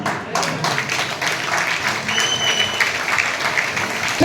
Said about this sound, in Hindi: हम पी रहे हैं, आप ताली बजा रहे हो